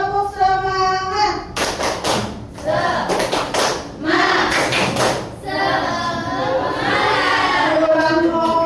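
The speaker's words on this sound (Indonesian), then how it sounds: "Kita tepuk semangat dulu" A classroom group performs the tepuk semangat clapping chant, bursts of rhythmic hand claps and thumps alternating with shouted chanting voices, loud and close, with a teacher speaking before and between.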